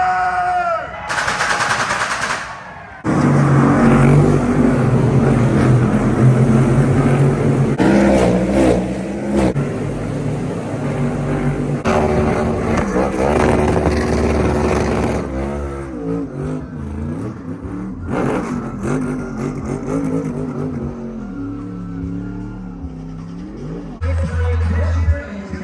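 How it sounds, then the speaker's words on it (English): NASCAR stock car engines firing up at the Chicago street race, a loud sustained roar of many engines with revving surges and crackling pops, close and continuous with crowd noise beneath. "Drivers, start your engine!"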